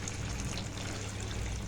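Tap water poured steadily into a baking tray, a continuous close trickling and splashing that holds an even level throughout with no voices.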